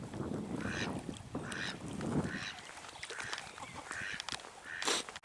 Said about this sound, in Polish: Gęś mnie chciała zaatakować, nie może była za siatką.